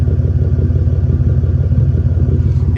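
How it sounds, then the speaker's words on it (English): A first-generation Toyota Tacoma with an aftermarket exhaust idles close by, a steady, deep, loping rumble with an even pulsing rhythm and no voices. "It has a really nice idle to it, and it sounds really good while I'm driving."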